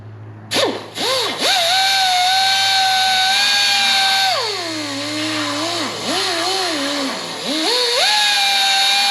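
A power grinder whines loudly and close as it grinds down a metal part, its pitch dropping and rising as it bites into the workpiece and eases off, with no talking.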